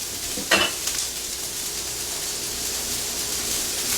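Onions stir frying in olive oil with Worcestershire added, a steady close sizzle with a brief sharp burst near the start as the liquid hits the pan.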